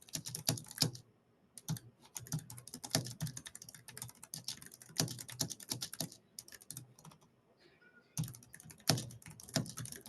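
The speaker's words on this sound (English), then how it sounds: "so maybe I'm typing a comment and maybe I don't like what I've written" Rapid clicking of a computer keyboard as a comment is typed into a help-desk ticket, steady bursts of keystrokes with brief pauses, close and fairly quiet, with no talking.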